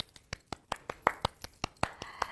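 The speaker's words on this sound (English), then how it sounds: "Let's give this book, Share Some Kindness, Bring Some Light, a big old round of applause" A single person clapping at a children's story time, about a dozen light, evenly spaced claps close to the microphone, fairly soft and steady with no voices over them.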